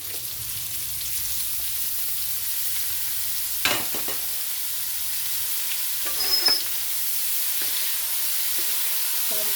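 Broccoli and beef stir-fry in a pan with a loud, steady sizzle and hiss throughout, broken by a few sharp clanks and scrapes of stirring up close.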